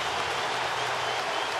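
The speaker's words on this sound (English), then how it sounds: "The sold-out crowd, the 21st sellout of the year, coming to life." Sold-out crowd at a Phillies–Red Sox baseball game roaring and cheering, a dense, steady wall of crowd noise held loud throughout with no pauses.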